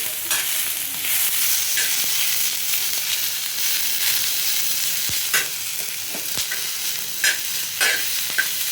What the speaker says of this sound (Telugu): ఇలా మంచిగా వేయించుకుందాము. వేగేటప్పుడు కొంచెం సాల్ట్ వేసుకుందాము. సాల్ట్ వేస్తే ఆనియన్స్ తొందరగా వేగిపోతాయి